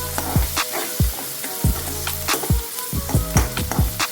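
Onions fry in a pan on a stove over low heat, sizzling steadily while a utensil stirs and scrapes in repeated rhythmic strokes.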